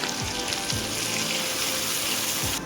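Continuous splashing rush of a glass of water poured into a pan of mutton karahi, loud and close, with faint sizzling beneath.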